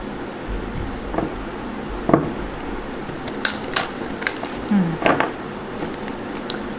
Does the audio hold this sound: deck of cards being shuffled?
yes